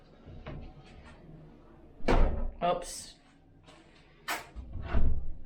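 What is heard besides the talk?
door being closed against a door jamb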